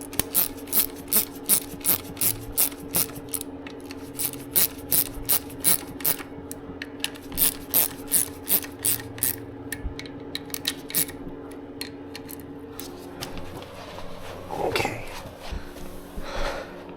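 Ratchet tightening Barnett clutch spring bolts on a Kawasaki Ninja 500, with rapid bursts of crisp rhythmic clicking repeated in close succession, then slower scattered mechanical clicks and a short rustle toward the end.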